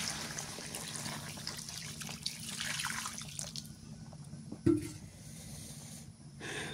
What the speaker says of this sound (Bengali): মাংসটা ভালো করে কষান করে নিলে আমি এখন পানি দিয়ে দিই, ঝোলের পানি দিই।